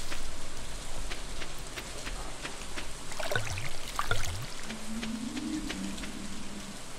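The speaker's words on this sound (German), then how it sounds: "Oh, hört sich an, als wenn es regnet." Steady rain ambience from the farming video game Stardew Valley, a continuous hiss with scattered droplet patters across the full clip, plus a few brief soft chime-like game tones in the middle and a low hum near the end, no speech.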